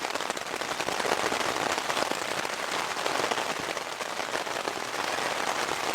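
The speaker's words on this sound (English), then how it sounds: "Well, the rain has definitely picked up." Steady, dense rain drums on a Hilleberg Nammatj 2 tent pitched in the mountains, a close, continuous patter with no gaps and no voices.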